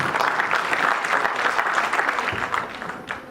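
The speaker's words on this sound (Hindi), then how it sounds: "ताली तो ठीक से बजा लीजिए" An audience at a Hindi spiritual discourse bursts into sustained applause, a dense wash of many hands clapping at close range that holds steady and then tapers off toward the end, with no talking over it.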